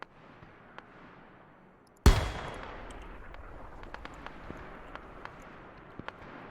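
A sharp gunshot-like crack in a war video game set on the Raate Road battlefield, followed by scattered distant rifle shots popping irregularly over a steady low background rumble.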